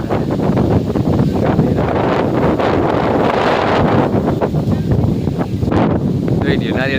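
Strong wind roars steadily through coconut trees on a farm, buffeting the microphone with loud, continuous gusts and rustling leaves. A voice is faintly audible beneath the noise.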